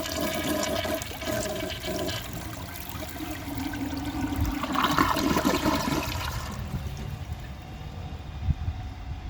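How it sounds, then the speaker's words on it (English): A 1990s Kilgore low-tank toilet flushes with a dry bowl: a loud, close rush of swirling water that churns for several seconds, then eases into a lighter refill trickle. "That was actually a really good flush for a dry bowl."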